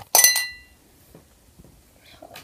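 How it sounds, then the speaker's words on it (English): A marker slides off a table and drops into a glass, giving one bright ringing clink that rings out briefly, followed by faint rustles and a soft knock near the end. "we're going to slide markers off a table in a glass."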